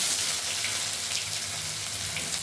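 Chopped onions frying in hot oil with panch phoron and dried chillies for a Bengali aloo posto dish, giving a steady, soft, hissing sizzle without pauses.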